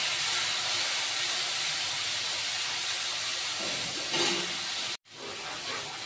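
Ground black pepper, cumin and red chilli powder roast in hot refined oil, giving a steady close hiss of sizzling with a brief sharp cutoff near the end.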